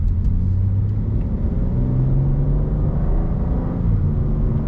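A 2024 BMW M2 engine droning loudly from inside the car, a heavy low rumble with slight rises in revs, continuous and close for a few seconds with no talking.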